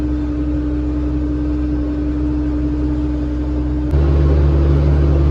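Tractor-driven field sprayer spraying a sunflower crop, a steady loud engine drone with constant mechanical hum that steps up slightly in pitch and level near the end, no talk.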